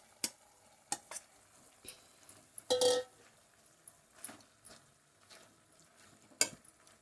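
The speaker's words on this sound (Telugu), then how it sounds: "ఇప్పుడు ఈ టమాటా మొత్తం ఇట్లా కలిపేసుకొని ఇందులో వేసుకోవాలండి" Tomatoes are stirred into frying chicken curry in a pan, giving scattered spoon clinks and scrapes against the metal over a soft sizzle, with one longer scraping stroke.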